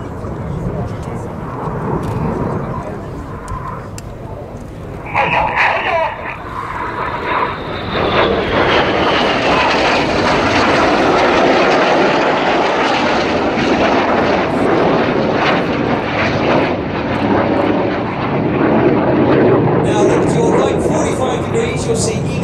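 A synchro pair of display jets performing an opposition barrel roll at low level at an air show builds into a loud, sustained jet roar that swells and lingers, while a commentator talks over it throughout.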